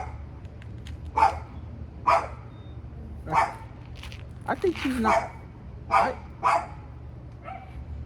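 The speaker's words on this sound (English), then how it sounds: "because I hear a dog barking" A dog barks several times at a distance in sharp, evenly spaced single barks, heard under and between casual conversation among several people.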